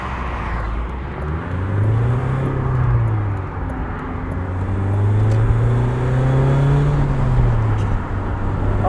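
A 1996 BMW Z3 under way, its engine a continuous low drone that rises and falls as it revs through gears, with road and wind noise filling in around it and no voices.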